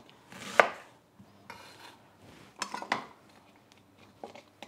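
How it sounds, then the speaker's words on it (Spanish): A manual food chopper cuts onion and two garlic cloves, heard as a few loud, close clattering bursts of blade and plastic. Quieter pauses fall between the bursts, and the last rattle is fainter. "Yo lo voy a hacer en mi picadora manual."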